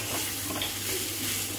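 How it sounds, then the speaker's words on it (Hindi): Potatoes and cauliflower stirred with masala in a frying pan, a steady sizzling hiss with soft scraping as the vegetables are turned, continuous and close without pauses. "इसमें इसे डाल दें और अच्छे से मिलाएं ताकि मसाला अच्छे से मिल जाए"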